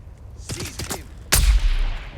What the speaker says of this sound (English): You shoot a little pistol at me?